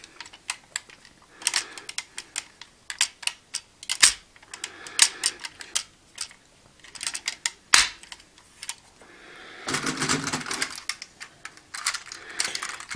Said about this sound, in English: take this peg and this clip and snap them into place on the back of the tail